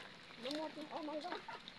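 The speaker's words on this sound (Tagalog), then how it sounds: "Yung mga manok mo, nandyan." Chickens near a rural home in Anda, Pangasinan, in the aftermath of Typhoon Emong, give a short run of soft, close clucks, while a person talks nearby.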